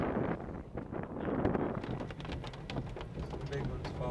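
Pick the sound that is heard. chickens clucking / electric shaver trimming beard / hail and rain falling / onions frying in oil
hail and rain falling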